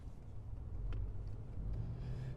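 Road noise fills a car's cabin while driving: a steady low rumble with a slight swell partway through, plus a couple of faint brief clicks. No voices are present.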